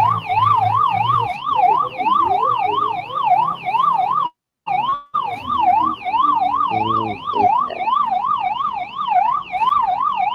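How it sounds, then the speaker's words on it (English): Wailing ambulance siren from the Roblox game Car Dealership Tycoon, loud and up close, sweeping rapidly up and down in an even repeating pattern, with a momentary dropout midway. "We need an ambulance ASAP."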